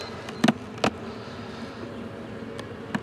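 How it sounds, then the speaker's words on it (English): A faint, steady buzz of honey bees at a mating nuc hive hums underneath, broken by a few sharp knocks and taps. "There's quite a few bees in this one"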